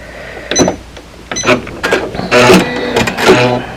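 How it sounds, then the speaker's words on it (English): A sewing machine stitches denim on a jean skirt in several short bursts of rapid whirring and clattering, close up, separated by brief pauses. "I'm just going to sew off there."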